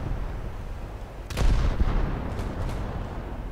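A warship's naval gun salvo in War Thunder, a single heavy boom at about 1.3 seconds with a rumbling tail under a low game background, followed by fainter distant echoes.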